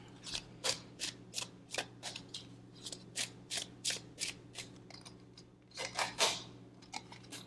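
Tarot cards drawn and shuffled by hand, a close series of crisp flicking and sliding snaps in an uneven rhythm, with a few louder riffles near the end over a quiet room hum.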